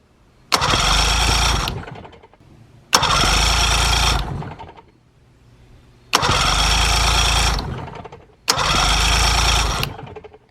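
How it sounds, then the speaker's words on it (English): A Mercury outboard motor's electric starter cranks in four separate bursts of about two seconds each, loud and close, with short silent pauses between them and no engine catching. "the starter is turning on every single time we do this"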